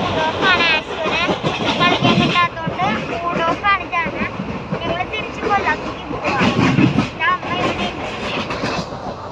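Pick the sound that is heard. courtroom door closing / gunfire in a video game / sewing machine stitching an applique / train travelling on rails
train travelling on rails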